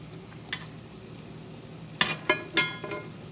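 Jamaican plantain fritters frying in a cast iron skillet, a soft steady sizzle broken by several sharp crackles and spatters as the batter cooks.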